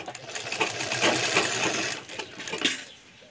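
Sewing machine stitching a straight seam on an old blouse, a close rattling run of quick needle strokes in short bursts with brief pauses between.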